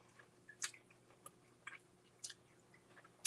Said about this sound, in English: can you hear the crunch of the chicken though?